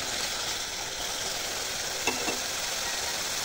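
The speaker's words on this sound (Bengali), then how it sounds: "এখন মশলাটাকে ভালো করে কষিয়ে নেব।" Spice paste for a rohu fish curry with pumpkin greens frying in a pan, giving a steady hiss of sizzling oil, with a couple of brief scraping stirs about two seconds in and no talking.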